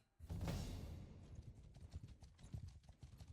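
Horse hooves clip-clop in a steady galloping rhythm while riding in Mount and Blade 2 Bannerlord, opening with a loud whoosh before the hoofbeats continue close and prominent.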